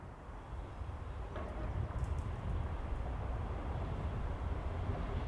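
A GWR Class 158 diesel train passes, a steady, broad low rumble that holds close and even for several seconds, with no voices.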